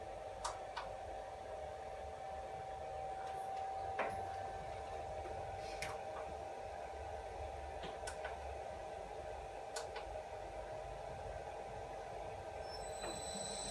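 The head of a Bridgeport milling machine runs in back gear at low speed, a faint steady hum with a constant tonal whine. Light irregular ticks and clicks sound over it, with no talking.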